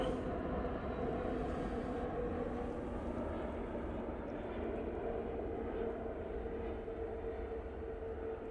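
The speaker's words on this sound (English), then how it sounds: "A321neo being used for this flight." Steady broadband roar of an Airbus A321neo jet at an airport, continuous and fairly loud throughout with no clear change in level.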